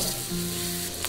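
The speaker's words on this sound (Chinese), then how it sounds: "放上青红辣椒，开大火翻炒" Green and red chili peppers stir-fried in a pan over high heat produce a brief, dense, close sizzle with the scrape of stirring.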